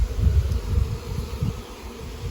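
Bees buzz continuously around hive trays, a close, low droning hum with pulsing swells as insects move near.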